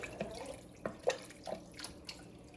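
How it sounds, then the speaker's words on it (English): Tap water runs into a jar for cooking pasta, giving a faint, close trickle with a handful of soft drip-like plinks spaced irregularly over a quiet kitchen background. "So I fill my jar about to here with water."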